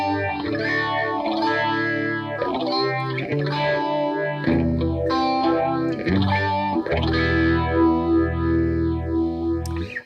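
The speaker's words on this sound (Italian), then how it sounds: "Se muoviamo il pedale d'espressione e lo portiamo nella posizione massima, ovviamente aumenta il ciclo della fase." Electric guitar runs through an AmpliTube 4 phaser swept by an expression pedal at full travel, giving sustained distorted chords with a fast, swirling, sweeping phase cycle that plays continuously, loud and alone.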